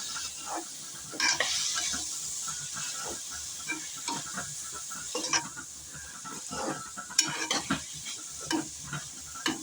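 Mushrooms sauté in plenty of oil in a pan, a steady close sizzle broken by repeated scraping and clinking strokes of a spoon stirring against the metal, with no talking.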